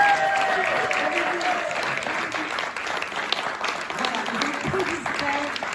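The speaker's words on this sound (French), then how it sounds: "je vous demande un tonnerre d'applaudissements pour Valérie et Annie." Loud, sustained applause from an audience at a corporate leadership speech, a dense wash of clapping that holds steady for several seconds without letting up.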